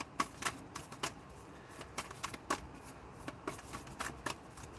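Tarot cards are shuffled by hand in a quiet room: soft, repeated riffling bursts in an uneven rhythm, close and fairly faint.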